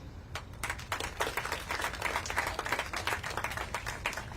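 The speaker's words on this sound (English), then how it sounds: "Let's give him a round of applause." A small audience claps together at an indoor public event, a dense patter of hand claps at moderate volume that carries on steadily with no voices over it.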